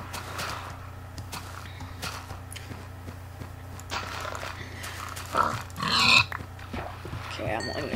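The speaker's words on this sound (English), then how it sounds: "Ooh, I see some pigs." Pigs grunt in the video game Minecraft over steady game ambience, with a louder burst of grunting near the end.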